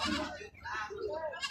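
Goats bleating at a village livestock market, including a young two-month-old goat, the calls close and repeated under people talking nearby.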